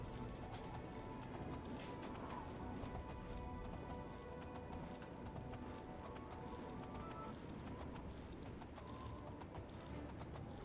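Horse hooves gallop steadily in the video game Oblivion, a continuous rapid clip-clop under a dense layer of game ambience and music, with no pauses across the stretch.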